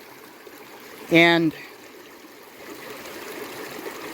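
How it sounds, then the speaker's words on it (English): Spring water trickles softly and steadily at the ruins of an old spring house, a faint continuous flow beneath a brief spoken word. "the water is going to come to the surface, and the water tends to be cool"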